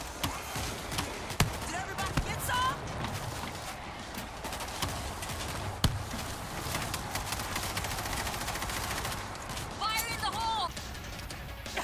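Sharp, sporadic gunshots crack through a busy World War Z game soundscape in a tunnel, with a few isolated loud bangs amid constant background noise and voices.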